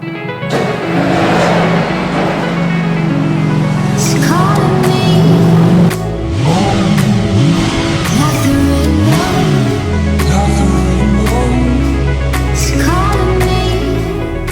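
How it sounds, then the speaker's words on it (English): A 2018 Porsche 911 Turbo S fires up from cold, its engine blipping through several sharp, loud revs that rise and fall, then settling into a steady idle, heard up close. "We're going to do a cold start so you can hear that"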